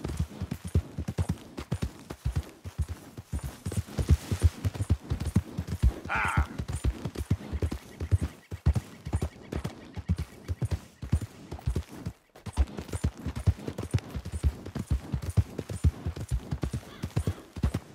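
A horse gallops in Red Dead Redemption 2, its hooves pounding in a fast, continuous rhythm close by, with a brief whinny partway through and no talk.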